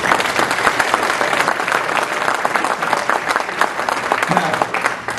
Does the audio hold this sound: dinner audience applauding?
yes